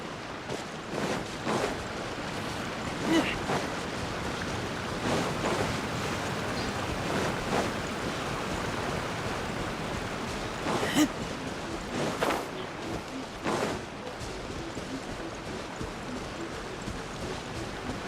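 A waterfall in Genshin Impact gives a steady broadband rushing roar for the whole stretch, with occasional splashy surges rising above it.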